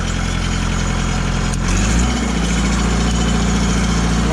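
An engine-driven welder generator runs steadily with a low, even engine drone, and a brief shift in pitch near the middle before it settles back into a constant idle.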